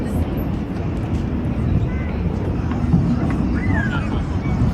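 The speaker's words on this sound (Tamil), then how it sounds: "அது ஒரு ஃப்ளைட் ஒன்று போகுது பாருங்க." An airplane passes overhead as a low, steady rumbling drone of moderate loudness across several seconds, with a voice talking over it.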